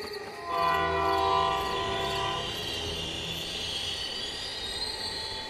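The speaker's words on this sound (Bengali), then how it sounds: "ট্রেনটা তখন গোপালনগর স্টেশনে এসেছে।" A local train pulls into Gopalnagar station with a loud screeching wheel squeal and a horn-like tonal blast at first, settling into a steady rolling rumble as it slows.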